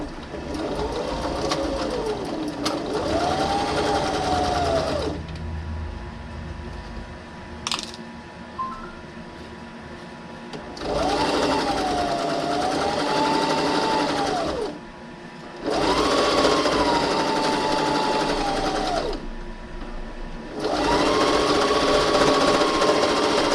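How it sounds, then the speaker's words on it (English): A sewing machine closes the bottom seam of a fabric face mask, running in four long steady bursts separated by short pauses, with a tonal whine rising and falling as speed changes; close and loud, no talking. "we're going to close up the bottom here and sew down the bottom"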